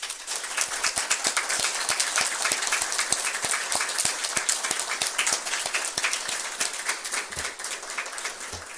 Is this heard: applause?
yes